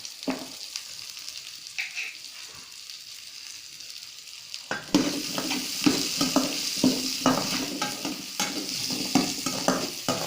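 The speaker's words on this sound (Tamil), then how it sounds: "அடுத்து நம்ம அடுத்து பூண்டு போட்டுருவோம் பூண்டு கருவேப்பிலை ரெண்டும்" Garlic and curry leaves hit hot oil in a pan and burst into a steady crackling sizzle, joined by repeated scraping and stirring clatter, after a quieter stretch of light frying and tapping.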